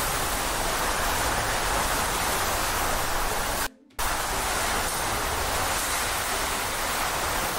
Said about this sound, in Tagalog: Sobrang lakas ng hangin, sobrang lakas pa ng ulan.